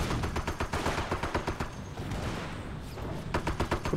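Rapid bursts of gunfire and stubby cannon shots in the Company of Heroes strategy game, an M8 in action, crackling in quick repeated volleys, easing off briefly midway before another burst of shots.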